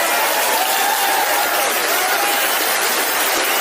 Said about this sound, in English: as you hear these people clap